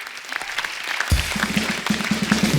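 A studio audience at a comedy talk show bursts into loud clapping after a quiet opening, the applause swelling and holding steady to the end.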